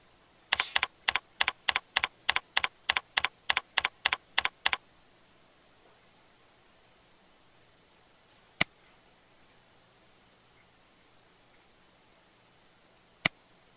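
Typing on a computer keyboard while entering a name and barcode number into an online form: a quick, even run of crisp key clicks for about four seconds, followed by silence and two isolated single clicks later on.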